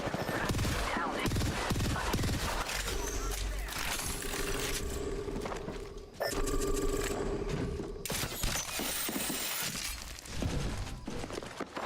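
Constant automatic gunfire in Apex Legends rattles in dense bursts with sharp impacts and crashing debris, a busy, loud battle soundscape with brief game voice lines mixed in.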